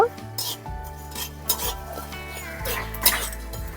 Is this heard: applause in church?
no